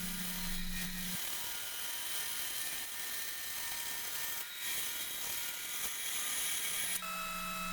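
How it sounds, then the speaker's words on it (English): A bandsaw resaws a maple board down the middle, giving a steady, loud mechanical whine with a rattling drone that runs the whole way through, with no talk over it. "so back at the bandsaw, I resaw it, splitting it in half"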